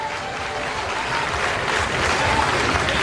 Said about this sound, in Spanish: Un fuerte aplauso para estos jovencitos que interpretan la música de mexicana